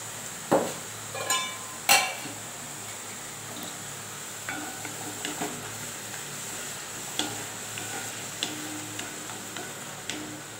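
Green chillies sauté in a pan, a faint, soft sizzle broken by a handful of sharp metallic clicks and taps of a spoon, quieter and sparser toward the end.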